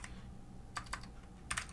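Keys clattering on a computer keyboard while code is typed, a few quiet clustered taps in two short bursts against a low room hum, close and faint.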